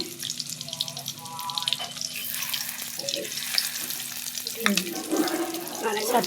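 Four fish roe fritters go into hot oil in a home kitchen, giving a steady close sizzle and crackle with some watery clatter, while a voice speaks briefly near the start.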